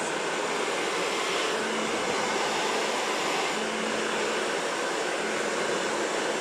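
A hair dryer fitted with a concentrator nozzle blows steadily while blow-drying hair with a paddle brush, a continuous close, even rushing whoosh with no talk.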